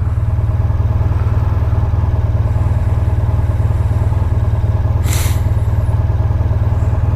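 A Honda Crosstourer motorcycle on a cold-morning commute, its engine droning loud and steady throughout with a brief rush of wind near the end.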